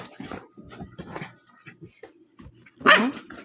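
A single sharp dog bark rings out loud and close, following a stretch of quiet talking.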